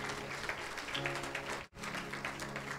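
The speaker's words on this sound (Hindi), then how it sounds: "तो इस गवाही के लिए जोर से तालियों के साथ परमेश्वर की महिमा करेंगे।" A church congregation applauds with brisk, scattered clapping, moderately near, broken by a sudden brief dropout before the applause resumes.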